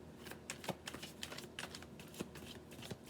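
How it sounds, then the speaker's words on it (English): A deck of tarot cards being shuffled up close: a quiet run of soft, rapid clicking flicks and riffles with uneven bursts, and no talking. "We are shuffling the deck for Aries."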